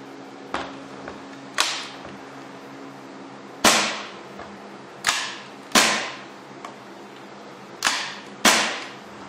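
An Airsoft Armory MEU 1911 carbine fires about eight sharp, snapping shots at uneven intervals, each a crisp close crack with a short decaying tail, with no talking.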